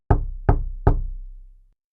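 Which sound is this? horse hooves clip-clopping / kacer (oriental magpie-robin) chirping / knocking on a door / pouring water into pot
knocking on a door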